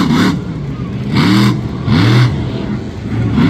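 A monster truck engine revs hard on a dirt track at Lebanon Valley, with several loud surging bursts about half a second apart, each rising and falling, under an announcer's commentary.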